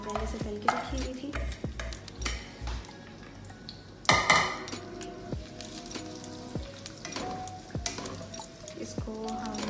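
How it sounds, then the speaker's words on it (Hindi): Pre-fried onions tipped into a cooking pot for murgh cholay, giving a burst of scraping, clattering and soft sizzling around the middle, with stirring, utensil clinks and drips before and after, moderately close. "ये हम वो तली हुई प्याज डाल रहे हैं जो हमने पहले से तल के रखी हुई थी"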